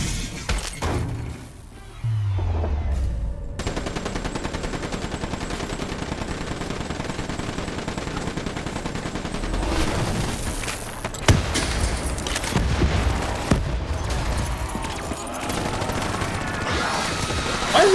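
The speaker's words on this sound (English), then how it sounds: "Why is there a zombie shooting?" Automatic gunfire in the video game Call of Duty Black Ops 3, with long sustained bursts of rapid shots, some crashing impacts and a brief lull near the start, loud and continuous.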